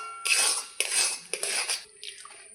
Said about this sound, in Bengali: এইভাবে আমি নাড়তে থাকবো।